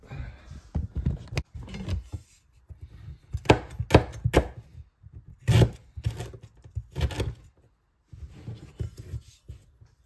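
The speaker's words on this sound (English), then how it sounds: "Now I'm going to cut the rest of this ginger" A knife chops ginger on a cutting board. Sharp, close thunks come in short irregular bursts with quiet gaps between them. The strokes cluster in quick runs of several chops.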